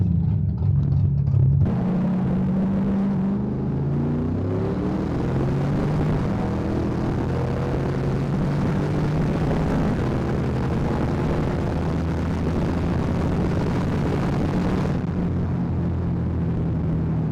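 A turbocharged Mustang makes a drag strip test pass: a loud, sustained engine roar that starts with a burst, then climbs steadily through rising pitch sweeps as it accelerates down the track, fading sharply near the end.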